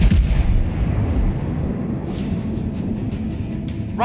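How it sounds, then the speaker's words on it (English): Naval ship guns fire in a warship video game, a deep booming blast at the start that rolls into a long rumbling decay, with faint crackling impacts later and no voices. "All guns ready!"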